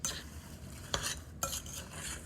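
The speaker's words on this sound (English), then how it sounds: "Again, just quickly stir it around" Apple pie filling of sliced apples, flour, two sugars, cinnamon, nutmeg and lemon juice being stirred in a bowl: a steady soft scrape with two sharper clacking strokes of the utensil, close and fairly quiet.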